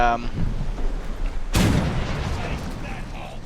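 A ship's cannon in War Thunder fires a single round shot, one sharp boom with a long rumbling tail midway through, over a background of game noise and a faint voice.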